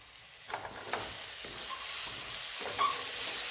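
Dried red chilli dropped into hot oil for a tomato and tamarind rasam, a steady sizzling hiss with a few soft stirring scrapes and small pops.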